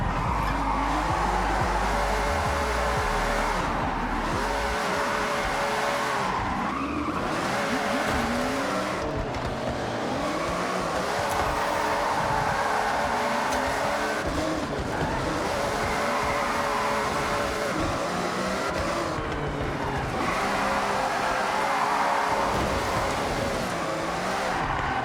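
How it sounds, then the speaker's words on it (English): A Ferrari drifts around a circuit in Forza Horizon 6, the engine roaring loudly and continuously while tires squeal in long, repeated slides. "Your Ferrari has been built to drift, and every part of this circuit has been built to drift on."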